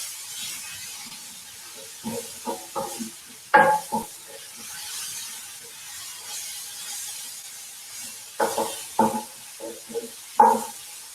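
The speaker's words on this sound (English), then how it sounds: "You can hear the sizzling" Chilli and eggplant relish, still holding some liquid, sizzles in a pan with a soft background hiss broken by clusters of stirring scrapes and clinks at irregular intervals.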